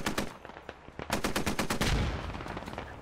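Rapid bursts of automatic gunfire in the SquadOps video game as several players pour bullets down an alley, loud, sharp, closely spaced shots that grow into a dense, sustained volley.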